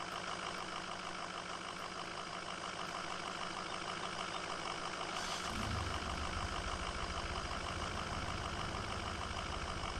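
A steady, droning farm truck engine in a video game rumbles continuously, with a low idle shifting slightly partway through; no voices.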